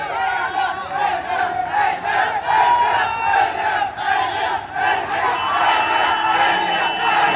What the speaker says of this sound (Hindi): अभी से भीड़ लगनी स्टार्ट हो गई भाई